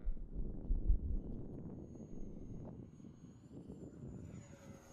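A Viper 70mm EDF RC jet flies past, its thin high whine of ducted fan holding steady over rumbling wind buffeting the microphone, heard from a distance.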